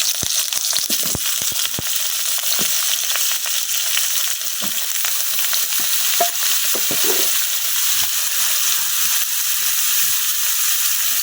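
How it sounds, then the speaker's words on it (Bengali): Cut eggplant pieces frying in hot oil in a wok, a loud continuous crackling sizzle with sharp spattering pops throughout, no voices. "এখন এই তেলের মধ্যে দিয়ে দিতেছি কাটে রাখা বেগুন"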